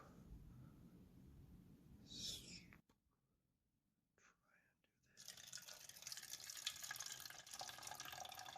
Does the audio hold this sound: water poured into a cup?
yes